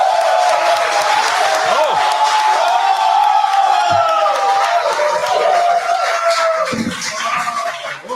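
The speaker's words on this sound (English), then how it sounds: "Give him a round of applause" A crowd at a live show in Hong Kong applauds and cheers as an audience member is called up for an award, with whoops and shouts over the clapping and voices calling out nearby.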